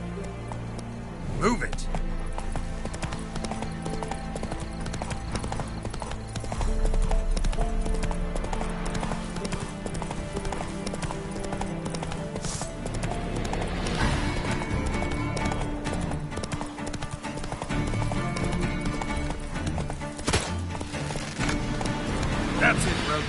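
Hooves of Roach, Geralt's horse in The Witcher 3, clip-clop steadily at a gallop and then ease off, loud and close beneath game music, with someone speaking briefly.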